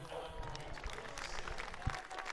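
Sustained crowd applause at the STIHL Timbersports New Zealand Pro Championship 2024, a steady wash of clapping from a large audience with a few louder claps and thumps standing out, continuing evenly throughout.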